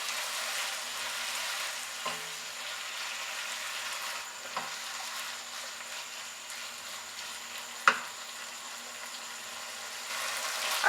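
Chicken and vegetable spaghetti sauce with ketchup sizzles steadily in a hot pan, with a few soft spoon scrapes and one sharp clink as it is stirred.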